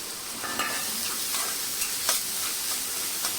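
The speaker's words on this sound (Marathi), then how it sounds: "आता आपण याच्यामध्ये कांदा टाकून घेऊया कांदा छान मऊ करून घ्यायचा आपल्याला" Onion and tomato sautéing and being stirred in a pan while cooking sprouted whole masoor usal, a steady close sizzle broken by several short scraping stir strokes, with no talking.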